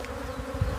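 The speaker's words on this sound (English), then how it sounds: "Yeah, these are bees." A brief, steady insect buzz, like bees droning close by, with a low hum underneath.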